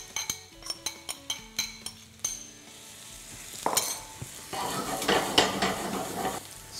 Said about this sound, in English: We've put a little bit of olive oil in the pan. Now we add the onions.